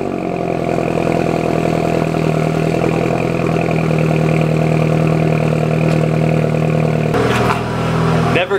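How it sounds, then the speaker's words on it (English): A BMW F30 328i with an AWE Touring exhaust runs on a cold start, a loud, steady high idle with a deep exhaust drone, briefly interrupted by a clunk near the end, with speech alongside. "This is a cold start on an F30 328i with an AWE Touring exhaust."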